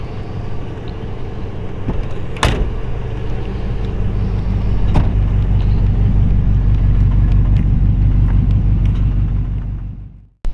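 A 1949 Pontiac Streamliner Silver Streak straight-eight engine idling with a deep, steady rumble, a couple of sharp clicks early on, running loud and even before stopping abruptly at the end.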